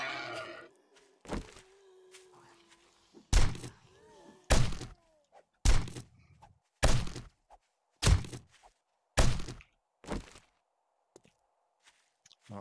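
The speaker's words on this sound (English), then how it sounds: "Now I need to break stones and get resources." Repeated heavy tool strikes breaking stones in 7 Days to Die Alpha 17, roughly nine sharp thuds at a steady pace of about one per second, each separated by near silence.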